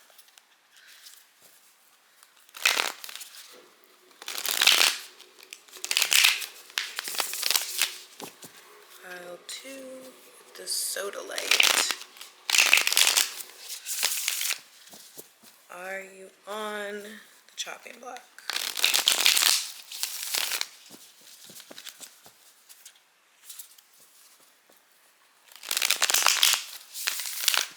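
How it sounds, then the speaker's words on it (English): Repeated bursts of tarot cards being shuffled, crisp riffling strokes close up, alternating with a soft-spoken voice talking between shuffles. "I'm gonna give these a nice little shuffle"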